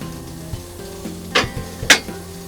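Coal shovelled into the firebox of a steam locomotive, two sharp scraping crunches over a low steady mechanical hum.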